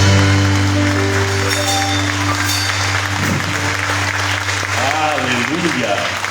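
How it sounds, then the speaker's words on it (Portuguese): Church congregation applauding at a 7:30 pm evening service, steady loud clapping over sustained music tones, with voices calling out beneath it. "vamos aplaudir o nosso Senhor"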